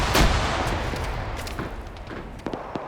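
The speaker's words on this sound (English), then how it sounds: "More grenades going off here." Grenades go off in a video game battle: a loud, close blast at the start, then a rumbling tail and several sharp, lighter pops and gunshot cracks.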